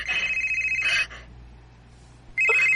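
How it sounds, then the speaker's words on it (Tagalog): A cellphone rings with a loud, steady electronic trill that stops for over a second and then starts again, heard alone without talk. "Kanagag-miss calls ni Chester"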